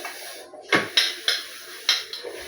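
Dishes washed by hand with soap in a home kitchen: several sharp clinks and clatters of utensils and pots knocking together at irregular intervals, close and fairly clear.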